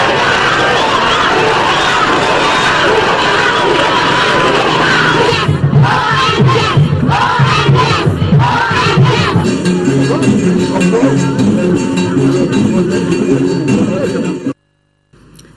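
A large street crowd in the cité des Rails cheers and shouts loudly for visiting presidents, a sustained, close roar of voices that cuts off abruptly at the end.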